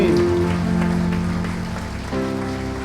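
Congregation applause during a Sunday church service, a steady wash of many hands clapping heard under sustained organ or keyboard tones, continuous and fairly full throughout.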